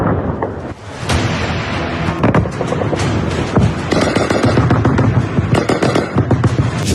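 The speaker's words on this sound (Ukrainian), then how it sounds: "Постріл!" Rapid, dense gunfire crackles continuously, with loud bursts of shots overlapping one another at close range, during combat between Ukrainian and Russian forces.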